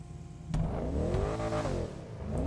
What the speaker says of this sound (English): you can hear, I want to say it's a twin turbo V8